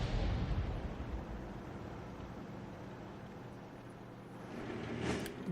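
A heavy artillery shot in World of Tanks: a loud booming blast at the start that rumbles and fades over several seconds, with a sharper crack near the end.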